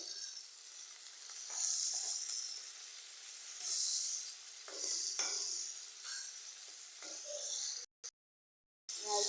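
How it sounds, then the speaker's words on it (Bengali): Garlic and ginger paste sizzles and hisses in hot oil for a fish bhuna, a steady frying hiss with soft stirring scrapes, briefly cut out near the end. "রসুন বাটাটা আদা বাটাটা একসাথে দিয়ে দিতেছি"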